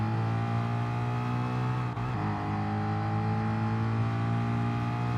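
A Group 3 Mustang race car in Gran Turismo Sport holds a steady, loud engine drone under load for several seconds, with a brief dip and a gear shift midway. It sounds close and continuous, and no one speaks.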